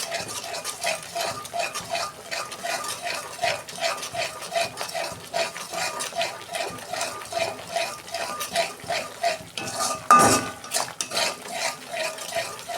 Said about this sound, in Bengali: ভালো করে আমি কষাবো মশলাটা।